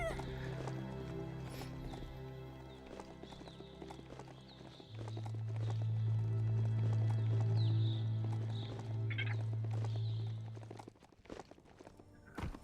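Goat mount ridden in the video game Biomutant, with steady hoof clip-clops and a long bleating call in the middle, under a quiet game soundscape.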